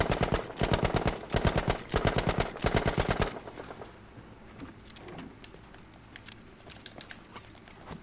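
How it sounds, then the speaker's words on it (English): A Sten submachine gun in Battlefield V firing full-auto at a shooting lane, rapid loud bursts for about three seconds, then sparse distant pops and quiet range ambience. "shots with the Sten at 25 meters to kill someone in mag dump"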